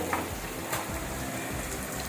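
Steady sizzling of onions frying in hot oil, close up, with light crackles and a faint stirring sound.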